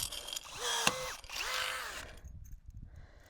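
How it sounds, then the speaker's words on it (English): DeWalt DCF414 cordless rivet gun setting rivets during a vinyl gate installation, with two rising-and-falling motor whirs and a sharp snap between them, followed by quieter rustling. "This is a DeWalt rivet gun, a DC F414."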